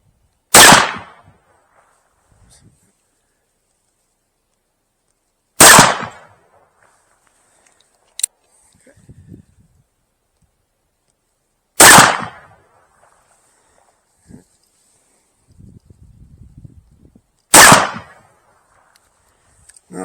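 A black powder percussion revolver fires four sharp, loud shots at about six-second intervals, loaded with 40 grains of powder, .457 round balls, lubed wads and RWS 1075 caps, shooting at 20 yards. Faint handling noises fill the gaps between shots.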